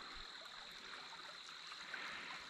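A clear, spring-fed stream flows quietly in a forest, a soft steady rushing hiss that stays even and faint throughout, with no voices.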